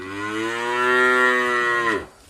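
A female calf on a cattle farm gives a single sustained moo, loud and close, rising slightly and holding before breaking off abruptly.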